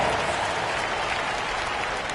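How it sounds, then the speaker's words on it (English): A large crowd applauds steadily, a dense continuous clapping that fills the whole moment without pause. "Give yourself a round of applause."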